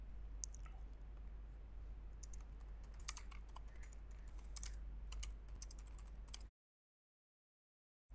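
Typing on a computer keyboard while setting up a Python file, a steady patter of light key clicks for several seconds, close and quiet over a low hum, with no talking, then an abrupt cut to silence.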